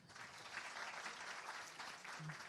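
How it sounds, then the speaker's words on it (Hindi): School students at an education conclave clap together in a brief, steady burst of applause, faint and somewhat distant, with no talking. "जरा बताएं, तालियों के साथ बताएं।"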